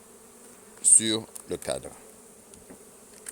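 Honey bees hum around a hive frame holding wax comb fixed with elastic bands during early-season work, a faint steady high buzz running under a man's close speech in French.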